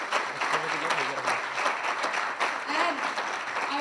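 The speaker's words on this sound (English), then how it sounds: "First of all, a big round of applause." Audience applause fills a hall, steady dense clapping from a crowd lasting throughout, loud and close with a voice faintly underneath.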